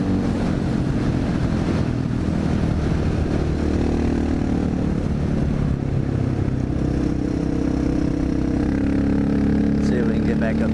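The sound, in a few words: Honda XR650L dirt bike engine while riding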